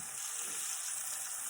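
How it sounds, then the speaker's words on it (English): German sausage frying in a skillet makes a steady, dense sizzle, close and continuous with no talk over it. "when you're frying meats like this,"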